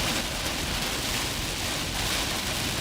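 Rain on a car while driving through a Wisconsin storm: a steady, dense wash of drumming rain, loud and constant throughout.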